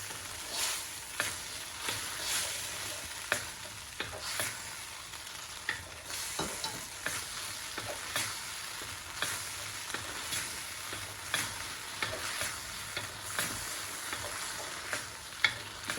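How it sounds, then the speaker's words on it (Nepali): A spoon stirs cornflour slurry into Gobi Manchurian gravy in a pan, giving a soft steady sizzle with repeated scraping strokes close by and no voices. "मैले कर्नफ्लोरको स्लरी बनाएको छु। यसलाई बिस्तारै राख्ने"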